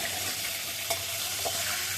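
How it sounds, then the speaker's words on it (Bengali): Fish fry in a pan with a steady, even sizzle and light spitting throughout, close up and without talking. "ততক্ষণ আমি মাছগুলো ভেজে উঠি"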